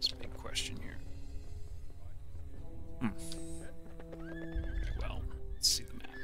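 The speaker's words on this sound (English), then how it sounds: "Can't I get on my horse?" A horse in the video game Sacred Gold whinnies twice amid steady clip-clop hoofbeats, with game chimes and effects, while someone talks quietly over it.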